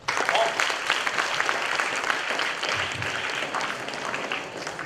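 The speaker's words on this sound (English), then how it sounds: "You can clap for him, huh?" An audience at a student induction programme claps for a speaker, a dense, continuous round of applause that starts strong and gradually tapers over several seconds.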